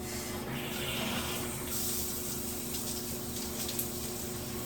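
Water runs steadily over hair as shampoo is rinsed out, a soft continuous splashing spray heard close by with no talking.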